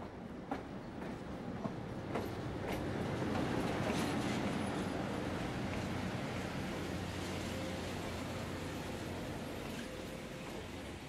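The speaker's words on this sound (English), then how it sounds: "the locomotive is turned around and we return to Napa Valley Station" The American Orient Express locomotive runs along rails near Napa Valley, a continuous rumbling roll with faint rhythmic wheel clicks, moderately distant and steady throughout.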